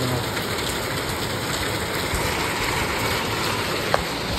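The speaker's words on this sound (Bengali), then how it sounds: "দেখো সাদা হয়ে গেছে পুরো, কি বৃষ্টি হচ্ছে।" Heavy rain pours outdoors at night in a continuous close hiss of drops on surfaces, steady throughout, with one brief sharp knock near the end and no voices.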